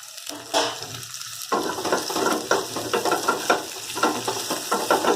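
Sugar going into hot oil with onions in a pan, frying with a steady loud sizzle and bursts of crackling, stirring noises throughout, no voices.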